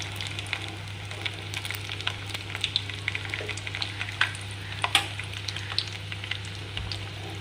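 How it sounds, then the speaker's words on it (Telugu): Drumsticks sizzle in hot oil with garlic and dried red chillies, a continuous crackling fry with scattered pops and occasional stirring clatter, close and steady under a constant low hum. "బాగా తుడిచి ఆరబెట్టుకున్న మునక్కాడలు వేసుకున్నాం ఈ ఆయిల్లో"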